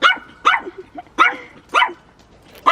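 Dogs bark sharply and close by, four or five quick barks in a row with brief pauses between them.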